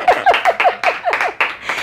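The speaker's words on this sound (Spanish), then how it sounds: "aplauso." A single person claps her hands in a quick, even rhythm, about eight sharp claps close by, with no talking over them.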